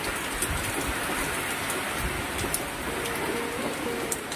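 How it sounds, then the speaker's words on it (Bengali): Heavy rain pours steadily during a storm, a dense, even hiss of drops on surfaces with occasional sharper drips, and no voices. "কেমন ঝড় শুরু হয়েছে"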